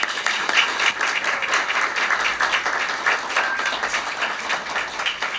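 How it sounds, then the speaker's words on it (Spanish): Lecture audience at a talk on the pre-analytical stage of clinical laboratory work gives a warm welcoming round of applause, steady dense clapping from many hands, loud and sustained with no speech. "La recibimos con un fuerte aplauso."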